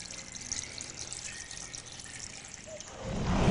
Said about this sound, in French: Je finis le rempotage en arrosant bien ma plante